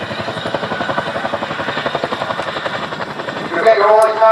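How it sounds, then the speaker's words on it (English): An RAF Chinook twin-rotor helicopter approaching to land at an airshow display, its heavy rhythmic rotor thudding loud and steady throughout and swelling louder at the end, with a commentator's voice faintly under the noise. "monitoring the height of the aircraft as it comes into land"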